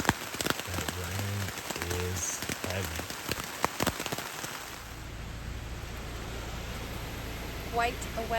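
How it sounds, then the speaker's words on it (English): Hard rain pours onto a tent at a creek campsite at night, a thick constant patter of close drops; someone talks briefly early on before the downpour continues alone. "That rain is heavy."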